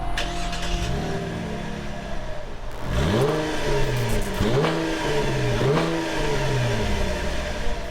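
A 2013 Cadillac ATS 3.6 Premium with a rear-drive 3.6-liter 321-horsepower V6 accelerates hard and close, its engine note climbing repeatedly in pitch and dropping back between gear shifts.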